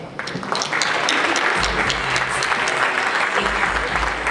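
Audience at an automotive awards ceremony in a Detroit casino breaks into sustained applause, a dense wash of clapping that builds quickly and continues, with some voices in the crowd.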